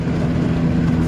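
Wind buffets and flaps steadily inside the cabin of a Ford Focus ST with a window lowered, a dense low rumble holding throughout with no talk.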